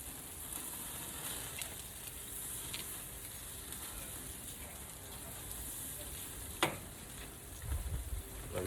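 A rib of beef sizzles on a charcoal barbecue grill, a steady close crackle with a sharp clack near the end as the meat is turned and a brief low thump after.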